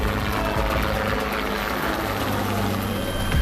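Indian Air Force helicopter flying at around 21,000 feet over the Siachen glacier, a steady loud rotor and engine drone with low thumping beneath a broad hiss, continuous throughout.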